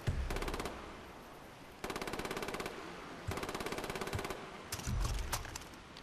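Rapid automatic gunfire in Far Cry 3, three sustained bursts of close, crisp rattling shots separated by short pauses, then a few scattered single shots.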